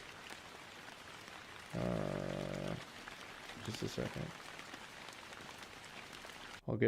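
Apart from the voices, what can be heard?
rain ambience track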